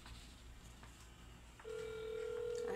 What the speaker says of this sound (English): I am still calling Denny's right now, and they're not answering their phone.